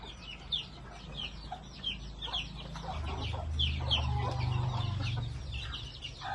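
Young native chickens, February-born, clucking and peeping in a farmyard, with a soft steady hum of background noise beneath the scattered calls.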